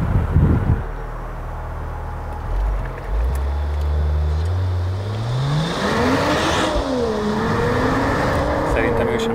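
A Mercedes-AMG car, a C63 AMG or GT Coupe with a big engine, passes nearby with a loud rising engine roar that swells and then fades, while people talk over it.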